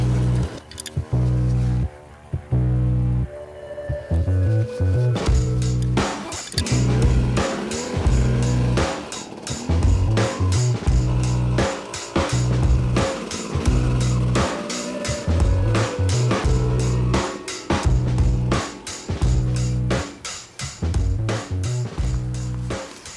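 Dirt bikes ride a trail in the Cinder Hills, with engine drone, revving and rattling bumps that stay loud and close throughout, broken by sharp knocks and gravelly crunches from the terrain.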